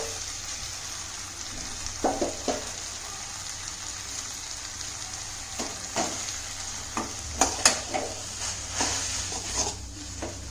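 Sevai noodles stirred and tossed in a pan, with a steady soft sizzle underneath and scattered scraping clinks of the spoon against the metal, close and moderately loud with no talk.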